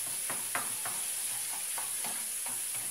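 Garlic fries in a pan with a continuous bright sizzle, while a utensil moves through it in a rhythmic series of soft scraping strokes about every half second.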